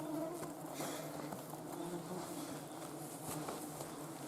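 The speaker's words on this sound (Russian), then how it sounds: "ничего эти комары не боятся." Faint, steady high-pitched whining of mosquitoes swarming in the taiga, thin and continuous against a quiet outdoor background.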